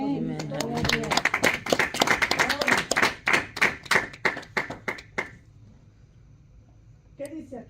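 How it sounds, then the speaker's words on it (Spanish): A church congregation at a Spanish-language Bible study claps in praise, a rapid rhythmic burst of many hands that thins into a few scattered claps and fades to quiet, followed by a short spoken voice. "Dar un aplauso"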